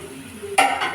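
Ivy gourd, potato and onion frying in a pan, a low sizzle followed by a sudden scraping stir partway through, close and brief.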